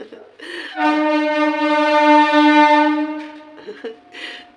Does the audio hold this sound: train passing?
yes